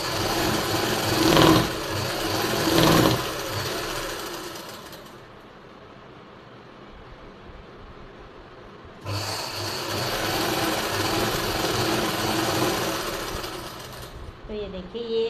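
A sewing machine stitches a silk suit in a boutique, running in two loud bursts with a quieter hum between, the motor buzzing with a rasping texture and a few sharp knocks near the start.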